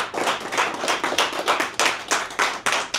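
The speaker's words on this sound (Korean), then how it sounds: "뜨거운 박수로 맞이해 주십시오." Listeners at a lecture on philosophy clap to welcome a university professor to the podium, a lively, fairly close burst of many hands that keeps up in uneven waves with no voices.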